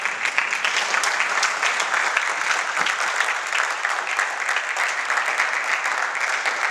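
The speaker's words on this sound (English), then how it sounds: "One more round of applause." Sustained applause from a conference audience at the close of a talk on geoethics in Nigeria, a steady dense wash of many hands clapping, fairly loud and continuous throughout.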